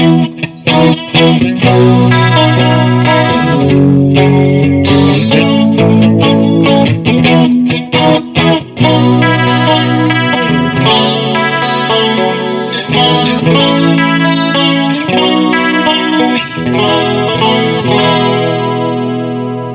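A clean Stratocaster electric guitar with a shimmering chorus effect plays a continuous strummed and picked chord progression, loud and close, with no voices.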